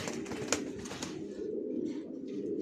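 Young racing pigeons coo in low, soft, repeated murmurs, steady and close, with a few faint clicks and flutters over the cooing.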